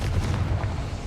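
A Confringo blasting spell detonates in Hogwarts Legacy, a short, loud, dense explosive rumble with heavy low-end boom filling the moment, no talking over it.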